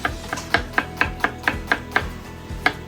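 Onions being chopped with a knife on a board, about ten sharp, evenly spaced cuts in a steady rhythm, close and clear with no talking.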